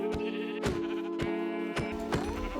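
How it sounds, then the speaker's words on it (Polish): Minecraft sheep bleat in several short, repeated wavering calls at a steady pace, near and clear, with no speech. "Owce."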